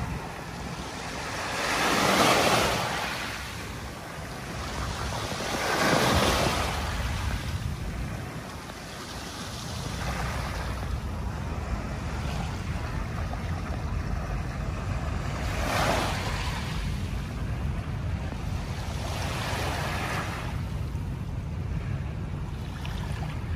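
Waves wash ashore at the dolomite beach on Manila Bay, broad swells of surf rising and falling every few seconds under steady wind buffeting the microphone.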